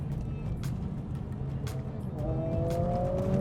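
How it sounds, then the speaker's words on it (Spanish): Mercedes-AMG A 45 S with its two-litre four-cylinder engine, exhaust note as the compact sports car drives past, a rough, steady engine drone that swells slightly with rising revs near the end. "la banda sonora del escape es"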